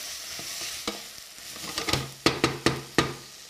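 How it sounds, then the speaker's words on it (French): Sardines with garlic and carrots cook in a pan for escabèche, a soft background sizzle broken by several sharp utensil scrapes and knocks against the pan as they are stirred, close and without talk. "Toujours en remuant."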